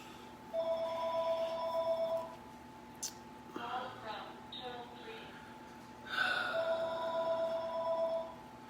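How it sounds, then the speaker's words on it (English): A telephone rings in two clear bursts of repeated bell tones, each about two seconds long, with a short gap between them. Some faint breathing and small sounds fall in the gap. "I'm getting a phone call"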